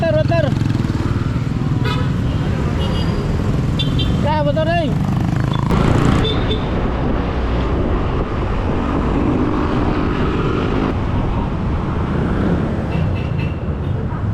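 Steady roadway noise with a motorcycle engine running throughout, a few horn toots, and people talking over the traffic, during the Sinulog festival in Cebu.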